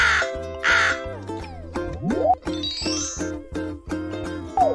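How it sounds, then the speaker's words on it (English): A cartoon crow caws a few times, loud and close, over a bouncy tinkling children's music backing with bell-like notes. "Yes, a crow."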